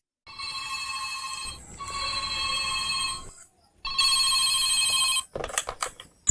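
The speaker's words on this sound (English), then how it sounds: "Ringing the police department." A telephone rings in repeated electronic bursts, two long rings separated by short pauses, then a shorter choppy burst at the end.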